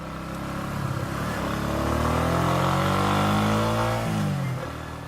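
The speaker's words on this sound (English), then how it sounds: "the rider starts his motorcycle. He rides off in a cloud of dust" An engine revs up and the pitch rises and falls as it pulls away, loud and close, fading slightly at the end.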